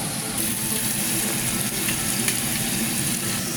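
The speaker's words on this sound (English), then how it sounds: "The searing of meat is enjoyable." Meat sears in a hot pan with a steady, loud, close sizzle that holds evenly throughout, with faint crackles on top.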